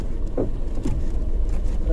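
A car rolls backward up a steep incline during a stop-and-go hill test, its engine a steady low rumble with road and wind noise throughout, loud and close from inside the cabin.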